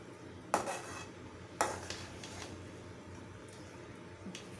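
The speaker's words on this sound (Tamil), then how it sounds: "நம்ம கம்மியாக செய்கிறனால அடுப்பில் வச்சு இப்போ கிண்டிக்கிட்டு இருக்கோம்" A metal ladle scraping and clanking against a pan while rava upma is stirred on the stove, two sharp knocks followed by softer scraping, fairly quiet and with no talk.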